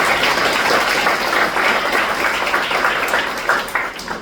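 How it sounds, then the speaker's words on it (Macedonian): An audience claps at a karate awards ceremony of a Macedonian traditional karate federation, with steady, broad applause from a crowd that thins toward the end. "Еден аплауз ако може."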